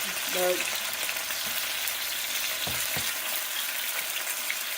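Grunt fish frying in a pan, with a dense, steady sizzle close by throughout and a few faint knocks.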